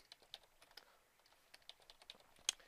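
A computer keyboard key is tapped repeatedly in a quick irregular series of light clicks, close and quiet, ending on one sharper press, with no speech.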